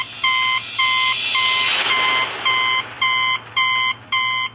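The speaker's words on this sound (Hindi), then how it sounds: "मशीन में से एक आवाज आने लगी और वो जोर जोर से बीप कर रही थी।" A fingerprint machine beeps loudly in a steady series of about seven evenly spaced, sharp electronic tones, each lasting under half a second, with a brief noisy burst in the middle and no talk.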